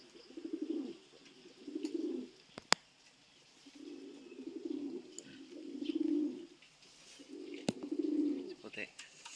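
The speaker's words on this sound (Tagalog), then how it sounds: "Pang-apat na ibon." Pigeons coo in low, throaty rolling phrases, several bursts in a row close by, with a few sharp clicks and faint chirps between them.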